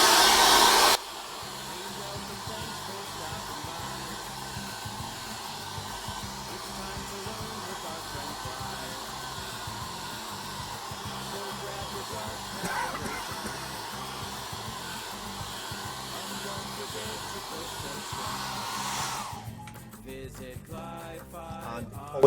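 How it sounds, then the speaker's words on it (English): A hair dryer blows with a steady, even whoosh for about twenty seconds, close by, drying an acrylic painting on canvas, then cuts off near the end. "What I'm going to do now is going to get my hairdryer, and I'm just going to give that a little dry"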